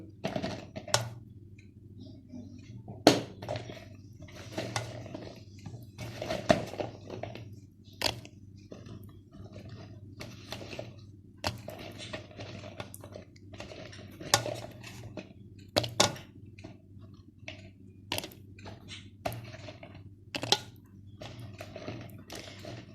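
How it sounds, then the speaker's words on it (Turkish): Hot peppers dropped into a jar for winter pickling, making light, irregular clinks and taps of vegetables and glass, with soft kitchen handling noise at a moderate distance. "Şimdi içerisine biberlerimizi atıyoruz."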